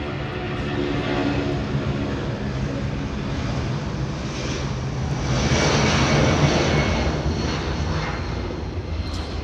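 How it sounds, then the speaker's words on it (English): A Delta airliner departs LAX bound for Boston with a loud, continuous jet engine roar that swells a little toward the middle and stays strong to the end, with no voices present. "Delta 420 flying to Boston"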